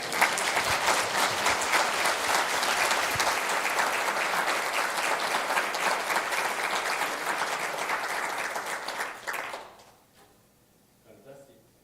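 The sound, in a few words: audience applause at church concert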